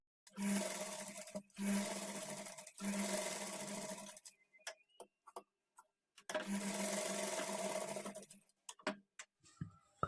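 A sewing machine runs in long continuous bursts, stitching a frill onto a patchwork blouse back, with pauses between runs and scattered clicks and handling noises in the gaps.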